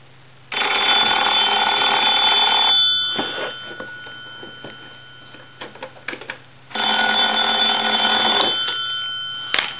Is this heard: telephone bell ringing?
yes